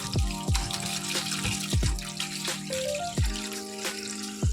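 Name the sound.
washing leafy greens in water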